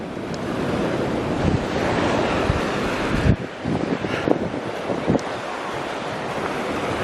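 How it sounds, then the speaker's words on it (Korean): Ocean waves wash continuously onto a sandy beach in Guam, a loud, close rushing surf with heavy wind buffeting the microphone and a brief lull midway. "파도소리 보이시죠?"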